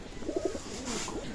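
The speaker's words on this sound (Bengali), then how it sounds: "এটা নর কবুতর" A male KTM pigeon gives a short, soft, close coo, a couple of low throaty pulses heard alone in a quiet room.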